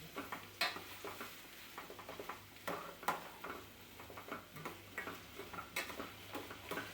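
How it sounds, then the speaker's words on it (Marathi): Pumpkin and tomato stirred in oil in a pan, a quiet frying hiss under repeated light taps and scrapes of a spoon against the pan. "तेलात हलवून घेऊ. चांगलं हलवून घेऊ."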